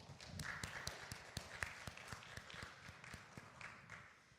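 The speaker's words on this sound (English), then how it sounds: "so let's clap for them one more time." A small audience at a piano studio recital applauds a piano duet with scattered, fairly faint clapping from a modest crowd that holds steady throughout.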